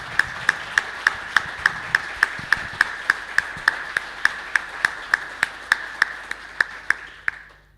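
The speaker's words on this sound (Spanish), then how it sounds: "Lo despedimos con un aplauso." An audience at a talk on building a wind farm gives a round of applause, heard as a steady, rhythmic series of sharp, evenly spaced claps at moderate volume that fade at the end.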